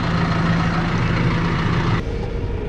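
A heavy tractor engine idles steadily on a farm with a low, continuous rumble and broadband noise, loud and close, then drops slightly in level near the end.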